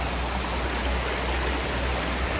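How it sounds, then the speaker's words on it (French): A small river stream flows beside a long stone, giving a constant, even wash of rushing water with no voices over it. "Devant la pierre longue et devant le ruisseau."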